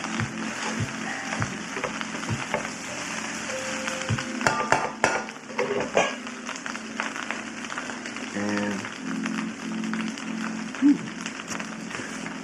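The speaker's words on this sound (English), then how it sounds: "You hear that sizzle, guys? You hear that sound?" Steady hiss of chicken fried rice sizzling in a hot pan, with scraping stirs and utensil clinks throughout; a voice speaks briefly midway.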